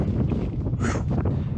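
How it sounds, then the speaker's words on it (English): Wind blowing across an open salt-flat area near Guerrero Negro, Baja California, a steady broadband rush buffeting the microphone with a brief stronger gust midway, no voices. "We're here and it's windy."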